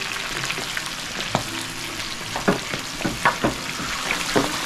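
Garlic frying in a pan of oil at a street food stall, a steady sizzle with scattered stirring clacks and scrapes, close and fairly loud, no voices.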